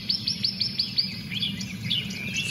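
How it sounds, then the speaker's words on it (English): Birds chirp outdoors in a quick run of high, bright tweets, then looser twittering calls over a soft low background hum. "You guys hear the birds chirping?"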